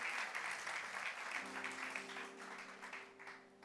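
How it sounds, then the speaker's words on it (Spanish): Congregation at a church service breaks into applause, a brief burst of clapping that fades slightly, with a faint sustained tone underneath. "Den un aplauso."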